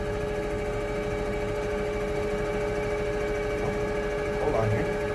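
A riding lawn mower runs with its PTO engaged while mowing through snow, giving a steady, close engine drone with a constant tonal hum that swells slightly near the end.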